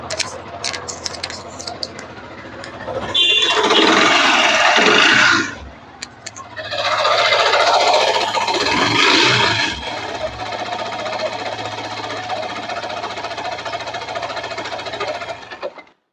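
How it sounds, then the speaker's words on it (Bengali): An old used motorcycle with about 12,000 km on it runs close by, its engine knocking and clattering steadily, rising to two louder revving bursts before settling back to an even idle. "বাইকের সাউন্ডটা কি এরকম মনে হয় যে ঘটঘট ঘটঘট করে সাউন্ড করতেছে ইঞ্জিনের ভেতর থেকে"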